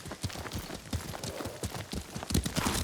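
Rapid hoofbeats of a galloping horse in the video game Ghost of Tsushima, steady and fairly loud, with a rhythmic clatter running throughout.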